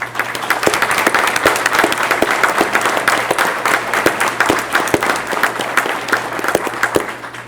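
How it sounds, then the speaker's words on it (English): Steady applause from a sizable crowd at a college Founders Day ceremony, dense clapping sustained throughout with a few sharper claps standing out, no voices breaking through. "Give them a round of applause."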